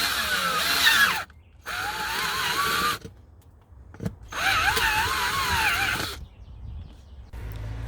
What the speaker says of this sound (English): going to drill a pilot hole and use my step-up drill bit instead.